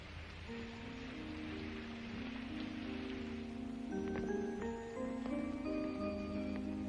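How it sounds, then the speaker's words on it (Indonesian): Steady rain falls in a continuous soft hiss, faint and even throughout, with a few tonal sounds mixed in toward the end. "Ya, hujan."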